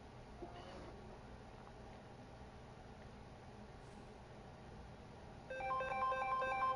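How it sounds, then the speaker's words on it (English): A phone alarm begins ringing near the end in repeated bright electronic tones, cutting through an otherwise very quiet, faint background. "Dang, that's my alarm already."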